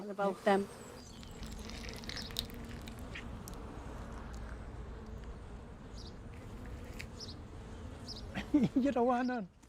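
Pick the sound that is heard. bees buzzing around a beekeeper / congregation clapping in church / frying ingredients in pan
bees buzzing around a beekeeper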